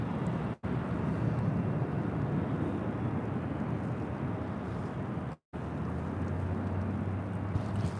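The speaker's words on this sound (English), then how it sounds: "This is the ANA Dreamliner." An ANA Boeing Dreamliner arriving from Tokyo Haneda lands at LAX, its broad engine roar and wind rush holding loud and steady, broken only by two brief dropouts.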